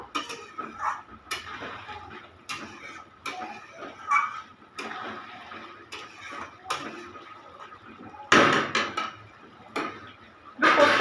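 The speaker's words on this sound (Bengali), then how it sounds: "আলুটা দিয়ে এবার আমি কষবো আরেকটু কষবো" Potatoes with spices are stirred in a pan, and a utensil scrapes and knocks against the metal in a steady series of clinks and taps. A brief sizzling swell rises near the end.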